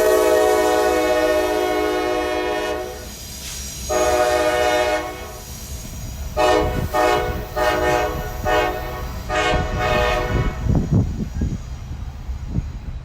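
A Norfolk Southern train passes with its black locomotives, sounding a long horn in several loud blasts, then the rolling rumble and clatter of the cars going by nearby.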